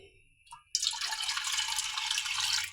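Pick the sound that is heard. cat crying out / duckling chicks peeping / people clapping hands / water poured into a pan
water poured into a pan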